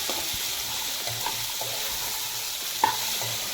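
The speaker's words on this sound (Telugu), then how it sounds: "బాగా ఫ్రై చేసుకోవాలి" Boiled black chickpeas being fried and stirred in a pan, a soft sizzle under occasional scraping strokes and one sharp clink of a spoon, close but fairly quiet, no talking.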